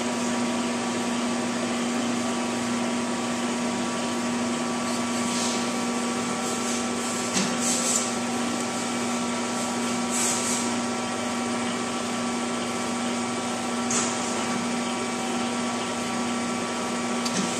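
A United LCH Series hydraulic universal testing machine loads a metal specimen in its grips, giving a steady, even mechanical hum with faint tonal whine, continuous at moderate level with no talk.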